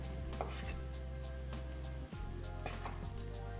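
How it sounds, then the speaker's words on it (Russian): Quiet, regular knife taps on a cutting board as mozzarella is thinly sliced, roughly one every half second, set against a low steady hum, without any talking. "Берем 2 шарика моцареллы и тоненько их нарезаем."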